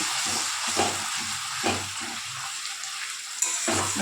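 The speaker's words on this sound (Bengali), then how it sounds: "এবার এর মধ্যে কুচানো ধনে পাতাটা দিয়ে দেবো আবার একটু নেড়ে নেবো" Chopped coriander leaves being stirred into spices frying in oil in a karahi, with a steady close sizzle and periodic low scraping strokes of the spatula, no talking.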